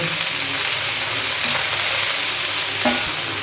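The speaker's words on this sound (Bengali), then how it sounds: "এবার আমি শাকটা দিয়ে দিলাম দিয়ে পরিমাণ মতো লবণ দেব দিয়ে ভেজে দেব" Leafy greens sizzle in a hot pan with salt, a loud, continuous close frying hiss with occasional stirring scrapes and no talking.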